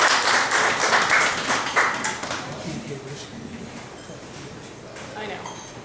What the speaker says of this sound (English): You have to applaud